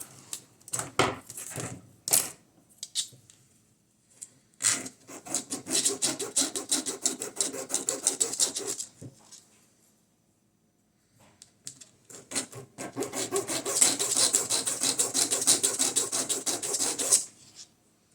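Rough, rasping sanding strokes on the edges of polystyrene rotors for a G.I. Joe Tomahawk model come in two long bursts, with short scrapes at the start and a quiet gap between, close and fairly loud.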